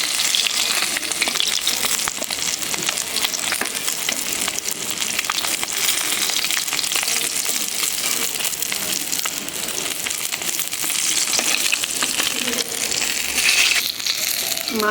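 Hilsa fish sizzles and crackles steadily in hot oil, a continuous frying hiss with occasional stirring scrapes, close by.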